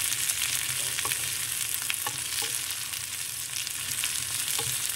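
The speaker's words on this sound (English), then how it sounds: "I'm actually adding in the tomatoes right now. Then continue stirring it." Tomatoes frying in a pot for Sri Lankan sambar, with a steady broadband sizzle and intermittent scraping clicks of a spoon stirring, close and continuous throughout.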